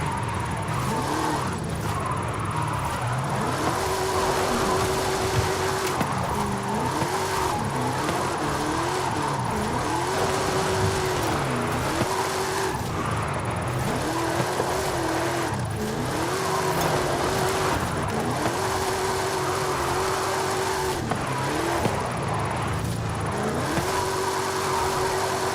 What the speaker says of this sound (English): Does your Crown Victoria drift better than this, Katie?